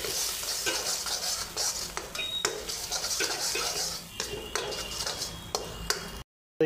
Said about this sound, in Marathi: हे सगळं मिक्स करून घ्यायचं आहे.